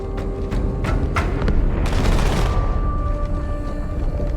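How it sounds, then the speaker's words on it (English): A big explosion in the Halo 2 Anniversary campaign, a heavy booming blast that swells into a long, dense roar with some sharp cracks before it and a rumbling tail after. "That explosion came from inside the Athens, same as the Malta."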